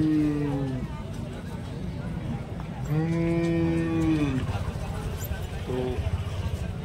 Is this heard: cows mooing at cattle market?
yes